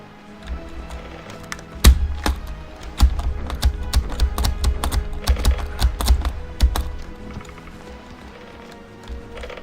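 Close computer-keyboard typing comes in quick irregular clusters of sharp key clicks, some hard and thumping, over a quiet background. The keyboard has a space key that tends to stick.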